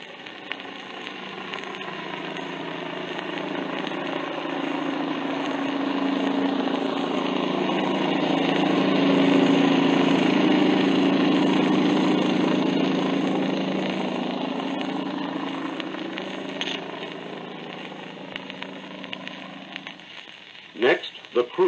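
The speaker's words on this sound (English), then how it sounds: "a surf landing boat." A steady low engine drone that swells louder toward the middle and fades again, like a boat motoring past, with a few clunks at the end.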